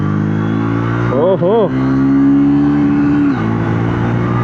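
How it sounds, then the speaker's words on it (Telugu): Triumph Speed T4 350cc motorcycle pulling away on a road, its engine rising in pitch through short revs and then holding a steady climbing drone, loud and close, with a brief exclamation from a rider. "Let's hit the road now. మంచి టార్క్ అండి, గుడ్ ఇనీషియల్ టార్క్."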